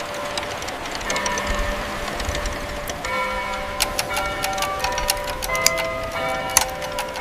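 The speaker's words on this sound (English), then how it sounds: "Clocks of every kind filled the windows and echoed from the town square." Many clocks tick in a town square setting, sharp irregular clicks and metallic taps layered over a low steady background, growing busier and more frequent in the second half, with no talking.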